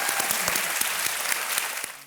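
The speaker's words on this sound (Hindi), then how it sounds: "तालियां बज जाए इसके लिए।" Studio audience applause on the Indian quiz show Kaun Banega Crorepati, a dense, steady burst of many hands clapping in a hall, loud and continuous for about two seconds before tapering at the end.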